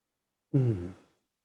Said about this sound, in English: And now, middle of the tongue. Breathing in.